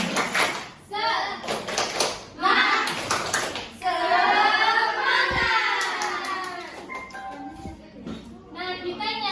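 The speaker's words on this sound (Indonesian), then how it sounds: "Kita tepuk semangat dulu ya." Elementary schoolchildren in a classroom doing a rhythmic spirit clap, bursts of hand claps alternating with a teacher's and kids' voices, close and lively.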